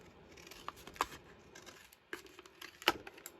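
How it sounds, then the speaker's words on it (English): Scissors snip through paper ephemera in a few scattered, sharp cuts with soft paper rustling between them, close but quiet, no talk. "Snip that out."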